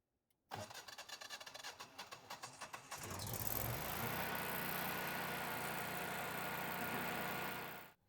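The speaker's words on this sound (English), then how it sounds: "he's gonna turn the generator on to warm up the motor" A generator engine cranks with rapid stuttering pulses for a couple of seconds, catches, then runs at a steady loud hum for several seconds before cutting off, with no talking.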